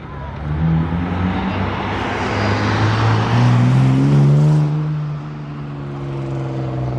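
A loud BMW E36 engine pulls away nearby, the exhaust note climbing as it accelerates and then easing off as the car moves into the distance.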